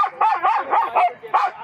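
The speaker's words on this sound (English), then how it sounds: "all that howling and the barking" Dogs at a dog park bark and howl together, including a high-pitched bark, in a loud, close run of yips, whimpering howls and barks with short gaps.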